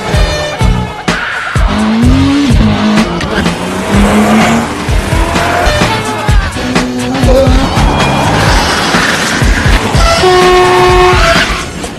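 Loud roaring car engines rev and race, with screeching tires and rushing traffic noise throughout, a dense, chaotic chase soundscape as police cars close in during a film car chase.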